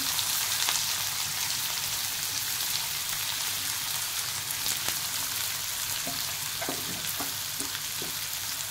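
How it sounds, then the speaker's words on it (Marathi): Finely chopped onion frying in hot oil with bloomed cumin seeds: a steady, dense sizzle that stays loud and continuous throughout, with a few faint stirring clicks near the end. "एक बारीक चिरलेला कांदा घालूया"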